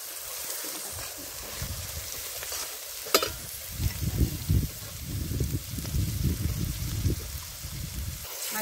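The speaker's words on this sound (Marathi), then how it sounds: "आज कांदे छान परतवून झाल्यानंतर कांद्याची पाट परतवायची." Onions sautéing in a pan in a home kitchen, a soft continuous sizzle with bursts of louder frying and stirring scrapes, fairly close, with faint background noise.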